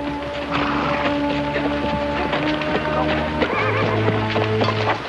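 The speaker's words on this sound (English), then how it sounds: "Get those horses out of sight." Horses whinny and neigh repeatedly over steady clip-clopping hooves, the calls loud and close, against a continuous outdoor background with music-like tonal layers.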